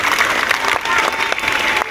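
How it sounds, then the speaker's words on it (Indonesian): Schoolchildren at SDIT Al Furqon clap on the first day of school, a dense, lively patter of many small hands, loud and continuous with faint crowd murmur underneath. "Tepuk tangan dulu untuk anak-anak Ustadz."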